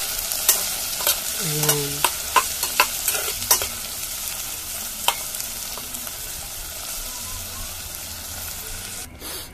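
Onion, garlic and tomato sautéing in a pan for odong with sardines, a steady close sizzle broken by a run of sharp spoon scrapes and clinks against the pan, with a brief spoken word early on.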